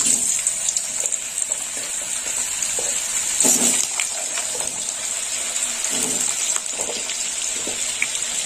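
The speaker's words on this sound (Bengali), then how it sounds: "তেল গরম হয়ে গেছে, এবার আলুটা ভেজে নেব। দিয়ে দিলাম আলু।" Potato pieces frying in hot oil in a home kitchen pan, a steady bright sizzle throughout with occasional clinks and stirring scrapes, close and alone.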